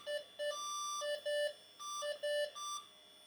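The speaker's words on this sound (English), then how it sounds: "Fan fail alarm." Slot 1 PC motherboard giving a fan-failure alarm: a faint, steady run of short two-tone electronic beeps switching between pitches in a quick repeating pattern, with nothing else heard.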